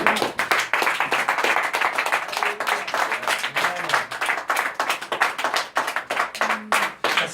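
An audience at an evangelization gathering applauds steadily, dense, close rhythmic clapping that runs throughout with no pause, mixed with a few faint voices.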